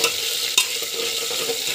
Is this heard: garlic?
yes